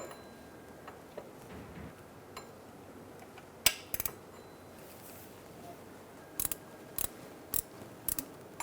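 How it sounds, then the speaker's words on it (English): A 14mm wrench working a bolt on the belt tensioner of a 2002-2006 Toyota Camry 2.4L four-cylinder, faint ratcheting clicks and a few sharp metallic ticks in scattered bursts, quiet and close. "Now we're going to go for this bolt up here using a 14mm wrench."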